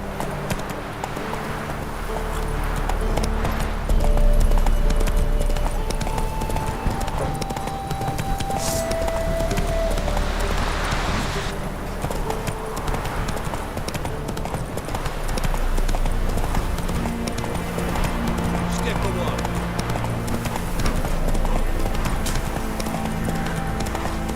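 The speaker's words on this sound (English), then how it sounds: "Montando en mi caballo" A horse gallops in The Witcher 3: Wild Hunt, with rhythmic hoofbeats clip-clopping steadily throughout, close and prominent, alongside in-game ambience, a brief whinny, and occasional background game sounds.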